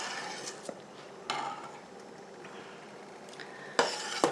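Strawberry cranberry jam boils in a pot while being stirred: a soft bubbling hiss with scraping stir strokes and a few sharp clinks of spoon against pot near the end, close and without voices.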